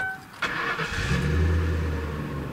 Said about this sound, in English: it'll fire right back up.